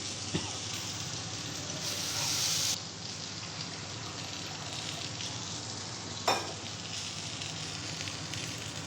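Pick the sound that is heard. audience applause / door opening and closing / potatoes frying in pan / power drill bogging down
potatoes frying in pan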